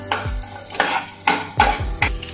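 Thin slices of fresh coconut stirred in hot ghee in a pan, with five sharp scraping strokes of a spoon against the metal at a steady pace over a light, close sizzle.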